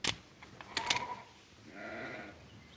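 Sheep bleat in a 1960 western rangeland setting: a few wavering cries near the end, after brief clattering and creaking sounds, with no talking.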